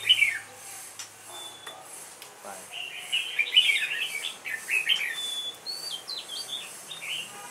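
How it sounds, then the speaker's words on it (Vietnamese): A bồi songbird, a captive bird, sings in a quiet room, giving several bright chirping phrases and thin whistles spaced across the clip, with faint background noise and a little talk. "Con bồi hót đấy."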